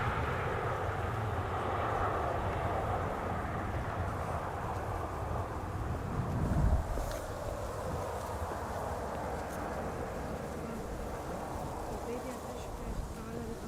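A Transavia airliner arriving from Nice at Schiphol makes a moderate, continuous whining hum and engine drone that swells slightly midway and then eases off.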